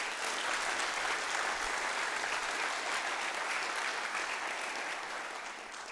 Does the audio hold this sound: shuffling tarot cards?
no